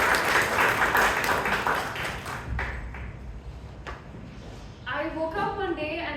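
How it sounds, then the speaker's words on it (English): At a Bangalore Toastmasters club meeting, the members give a thick round of applause that gradually thins and fades out, and a voice then begins speaking over the quieter room. "Please put a huge round of applause"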